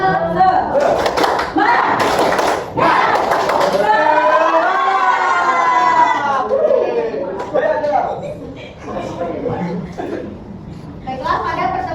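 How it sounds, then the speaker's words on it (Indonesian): A class of schoolchildren does rhythmic tepuk semangat, bursts of patterned hand clapping mixed with loud group chanting and shouting, with a teacher's voice and giggles in between. "baiklah, kita langsung saja tepuk semangat."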